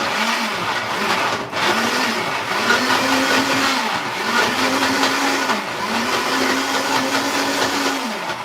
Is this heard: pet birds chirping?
no